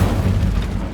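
A fiery Incendio spell bursting in Hogwarts Legacy, a loud, dense, low roaring whoosh that fills the whole second without a break.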